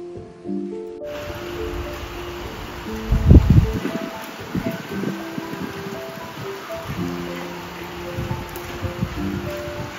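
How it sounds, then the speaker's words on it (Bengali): Heavy rain and strong wind outdoors in Ireland under a cloudy sky, a steady hiss of rainfall and gusting wind with a louder rumbling burst near the start. "এই দেখুন, মেঘলা আকাশ আর কেমন বৃষ্টি হচ্ছে আর খুব জোরে হাওয়া দিচ্ছে।"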